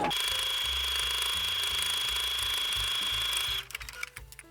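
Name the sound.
Singer sewing machine stitching fabric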